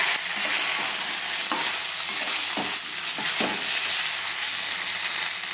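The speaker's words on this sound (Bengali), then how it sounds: "এবার দিয়ে আরও বেশ কিছুক্ষণ আমরা এটাকে ভাজা করে নিচ্ছি" Vegetables for a poi saag curry fry in oil with salt and turmeric, a loud, steady sizzle broken by several scraping stirs of a spatula.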